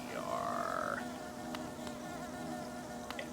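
Buzzing bees in the Hollow Knight video game, a steady insect drone with a rising whine near the start, then a continuous low hum with faint clicks, heard alone at moderate level.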